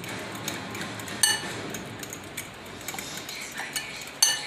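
Fish-fry ingredients are stirred together in a bowl, giving sparse light clinks and taps of utensil against dish at an uneven pace.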